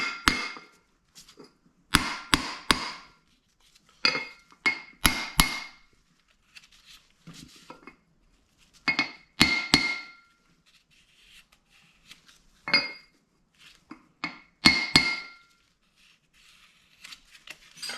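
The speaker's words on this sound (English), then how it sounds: "So I've got this grease seal here we need to tap in." A grease seal tapped into place with a 3/4-inch drive socket during a 1957 Chevy power disc brake conversion, giving sharp irregular metallic knocks in small clusters, close and fairly loud against near silence.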